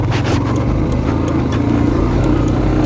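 A motorcycle rumbles on a rough off-road mountain trail in Nepal, its engine a loud, continuous, slightly wavering drone with rattles and wind buffeting throughout.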